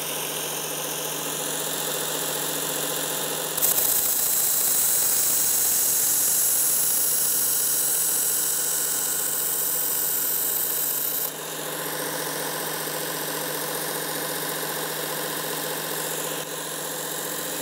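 Belt grinder with a coarse belt sharpening a D2 steel spear point knife, a steady loud motor whir throughout with a harsher grinding rasp from about 3.5 to 11 seconds as the blade meets the belt.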